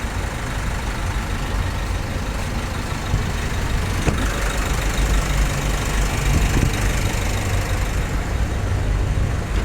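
Isuzu D-Max 1.9 diesel engine running steadily during an air-conditioning refrigerant refill, a loud continuous near drone held at raised revs, with no talk over it.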